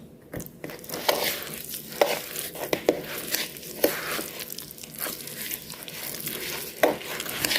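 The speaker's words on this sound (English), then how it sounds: "And now keep mixing." Sweet potato mango cake batter being stirred in a bowl makes irregular soft scraping and thick wet slapping, with occasional clicks of the utensil against the sides, close and fairly quiet.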